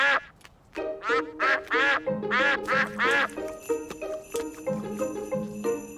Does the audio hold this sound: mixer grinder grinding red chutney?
no